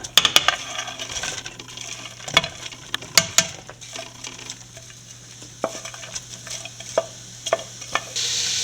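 Onions dropped into hot oil in a pan while making Kerala egg roast, with a steady close sizzle broken by sharp clinks and scrapes of a spoon stirring against the pan.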